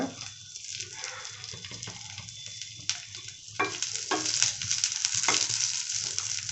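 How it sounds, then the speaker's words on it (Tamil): Crushed garlic fries in a pan with a crackling sizzle that grows busier and louder toward the end, broken by scraping stirs and no talk. "இப்போ இதில் பூண்டை கொஞ்சமாக சூடு பண்ணி எடுத்துக்கலாம்."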